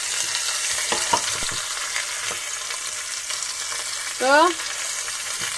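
Stuffed bell peppers, green and colored, sizzle and fry steadily in a pot on a switched-off stovetop, a continuous crackle with a few knocks and a brief scraping clatter near the end; a voice speaks briefly.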